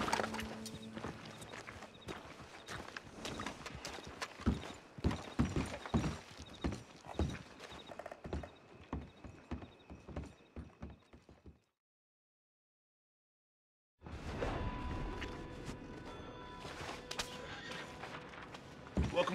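A horse walks in the video game Red Dead Redemption 2, its hooves clopping in a steady rhythm at close range, quickening toward the middle, then a silent gap before ambient game sound and faint talk return.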